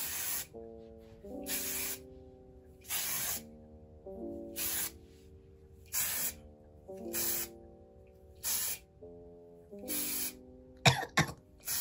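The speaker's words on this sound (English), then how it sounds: "Let me spray it with some hairspray." Repeated short bursts of aerosol hairspray on permed hair, about eight sprays in a steady rhythm, close up, over quiet background music, with a few quick extra bursts at the end.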